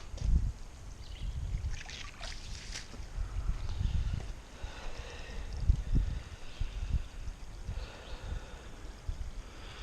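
Hot tub water drains out through a siphon hose, a steady low splashing trickle with gurgling surges continuing throughout, fairly quiet and uninterrupted.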